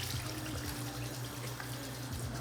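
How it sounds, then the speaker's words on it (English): Water runs steadily from a bathroom tap into a sink, a faint continuous trickle and splash heard on its own without talking. "now I'm gonna put water on my face"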